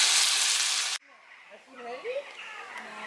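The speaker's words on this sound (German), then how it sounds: "Bisschen Gyros geholt. Das brutzeln wir jetzt an." Gyros meat sizzling in a frying pan sends out a loud, close, broadband hiss for about a second, then abruptly stops, leaving quieter outdoor sounds with a voice-like murmur.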